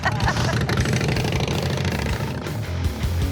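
A custom-built Softail motorcycle's engine idles steadily and close by, a low, even rumble with faint chatter in the background.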